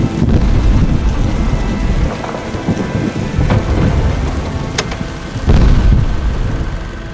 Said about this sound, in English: Rain pounds for days without end. The air feels heavy, and every thunderclap rattles the windows.